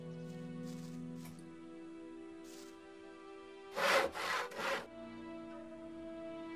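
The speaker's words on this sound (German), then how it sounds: "ich glaube, ich fange jetzt mal das Sägen an" A saw rasps through wood in the game Odyssee in three short, loud back-and-forth strokes, set against a soft sustained musical drone that runs throughout.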